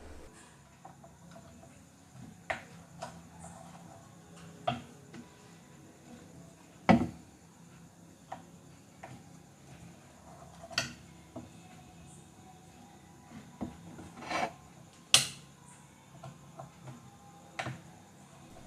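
A shuttle being pulled out of a large tailoring sewing machine after its three screws are loosened, with thread caught inside; sparse, quiet metallic clicks and ticks come at irregular intervals against a faint hiss, with no talking.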